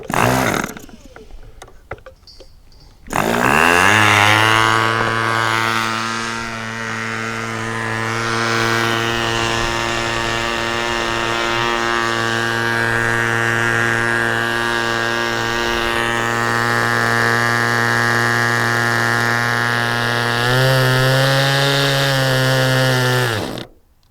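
An SH46 Sonic Hi Wing model engine during break-in, throttle at about 20%, buzzing loudly and steadily after a short start-up, its pitch dipping slightly midway and then holding to the end, with no voices.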